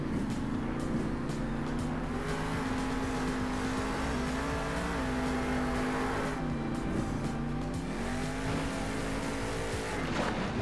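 A monster truck's engine revs hard and boosts through the middle of a race in Monster Jam Steel Titans 2, a loud, continuous growl rising and falling in pitch with gear changes, other engines behind it.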